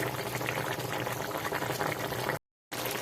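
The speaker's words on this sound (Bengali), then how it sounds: "খুব সুন্দর ফুটছে" A watery soybean curry bubbles in a pot, a close, steady simmering burble broken only by a brief silent gap near the end.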